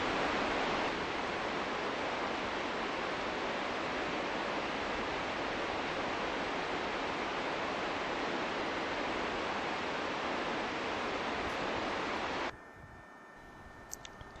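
Waterfall on Bat Creek, a steady loud broadband roar of falling water running unbroken for about twelve seconds before abruptly cutting to near quiet.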